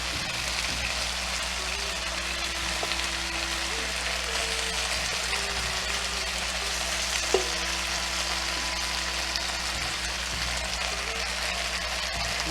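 Beef searing for a broccoli beef stir fry, a steady dense sizzle and crackle in a hot pan running the whole time with occasional stirring clicks, no talk.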